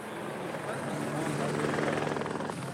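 A firefighting aircraft powers up its engine while lining up for a water drop of 1000 litres, giving a steady, loud droning roar with a rhythmic propeller-like pulse that builds slightly before easing off.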